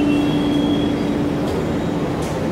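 A Delhi metro train rolls along with a steady low rumble, and a thin wheel squeal drifts above it before fading out.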